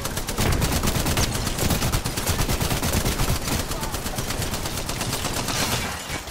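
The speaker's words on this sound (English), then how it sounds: "I'm getting shot from the other side" Rapid automatic gunfire in the Apex Legends battle royale shooter during a ranked match, dense and continuous bursts of shots rattling loudly for several seconds with no pauses.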